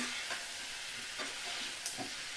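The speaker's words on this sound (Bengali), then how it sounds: "কষিয়ে নিচ্ছি।" Winter vegetables sautéing in a hot pan, a soft steady sizzle with a few scraping stirs of a spoon against the pan, quiet and close with no voices.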